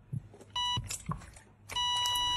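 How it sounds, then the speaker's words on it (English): Electronic beeping, in two sustained tonal bursts separated by a few soft clicks and knocks, sounding fairly close with no voices. "Beep, beep, beep, beep. Who's messing with the AC?"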